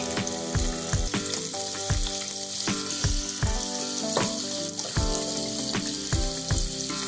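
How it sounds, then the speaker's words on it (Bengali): Bata fish frying in hot oil in a pan, a loud, dense sizzle with crackling spits and a series of sharp metallic taps and knocks close by. "তেলটা ভালো করে গরম হলেই মাছটা দিতে হবে। দিয়ে দিলাম মাছ।"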